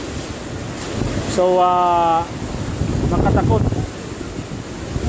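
Super Typhoon Goni (Rolly) in Naga City: strong typhoon wind rushes and buffets continuously while someone speaks briefly and a short tonal sound rises over it.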